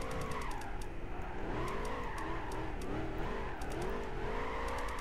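A Ford GT in Gran Turismo 5 drifts in fourth gear, its engine wailing at high revs that rise and dip continuously while the tires squeal steadily throughout, loud and close with no talking.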